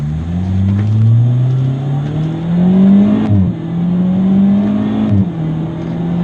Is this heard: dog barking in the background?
no